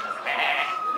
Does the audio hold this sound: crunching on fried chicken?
no